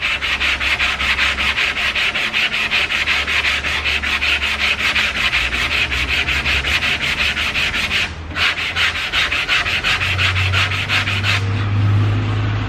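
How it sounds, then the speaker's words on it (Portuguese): Steady, continuous sanding on a car body being prepared for paint, a loud rhythmic scraping that runs without pause apart from one brief break near the middle. "vamos lixar de novo."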